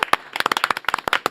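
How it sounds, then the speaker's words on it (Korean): A small studio audience on a Korean talk show gives a brief burst of quick, crisp hand claps, close and lively, lasting just over a second. "박수로 맞이하겠습니다."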